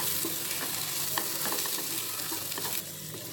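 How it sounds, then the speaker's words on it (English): Onion, garlic and turmeric mixture being stirred in a pot for vegetable khichadi, a steady close sizzle broken by repeated scraping strokes of the spoon, with no voices. "let's just stir this mixture"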